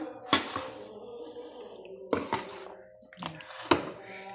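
A spoon stirs creamy macaroni salad in a bowl, giving a few soft squelching, clinking strokes at a close, moderate level, separated by quieter pauses.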